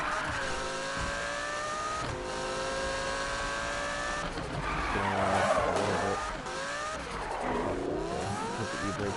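A car drifts in the Need for Speed video game, its tires squealing loudly and continuously over a revving engine that rises and falls, with no talking.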